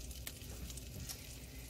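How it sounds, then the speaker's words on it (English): Salmon frying in butter in a frying pan gives a quiet, continuous sizzle and crackle with faint stirring sounds and no voices. "So, again, I have a frying pan going right here"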